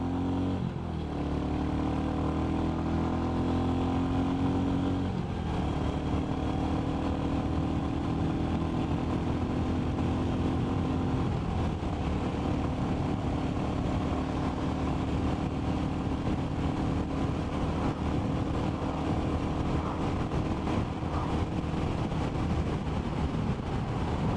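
A Royal Enfield Classic 350 motorcycle accelerates on the road, its steady engine drone rising in pitch through a couple of gear changes, then holding a constant hum at cruising speed.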